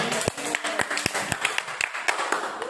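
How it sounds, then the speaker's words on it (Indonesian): A small group of students claps in a classroom for a classmate, a sparse uneven patter of individual claps with distinct sharp hits at irregular intervals, fairly close and moderately loud. "Beri tepuk tangan buat Daniel."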